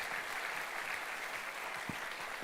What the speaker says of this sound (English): So let's give you all a very, very hard round of applause,